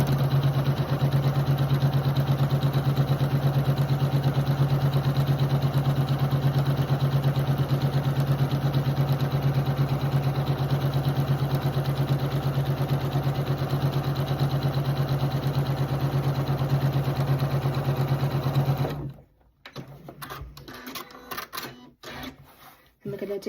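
A sewing machine stitches fabric for half-square triangles, a steady close mechanical hum with a fast even pulse that runs for about twenty seconds, then stops, leaving faint handling clicks.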